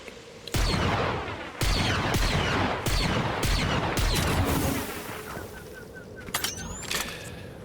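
Gunfire in the video game Fortnite during a raid: a rapid series of sharp, loud shots in several bursts, close and punchy, with a few scattered metallic effects near the end.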